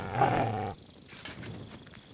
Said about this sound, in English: What are you growling at?